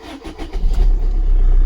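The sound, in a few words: Maruti Swift car engine starting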